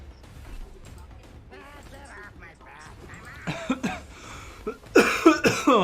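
Several sharp, loud coughs break out in the last two seconds, after quieter throat sounds and faint creaks.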